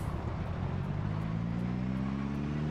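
Steady engine drone of a car in the zombie survival game Project Zomboid, a low continuous hum with rising harmonic tones as it revs, heard alone at close range.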